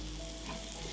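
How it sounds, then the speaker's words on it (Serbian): Onion fries in melted butter and olive oil, giving a brief, steady, dense sizzle with no voices. "Na zagrijanu masnoću dodajem luk"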